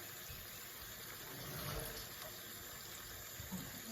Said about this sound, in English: add a little bit of water in the can.